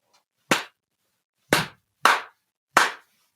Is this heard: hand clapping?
yes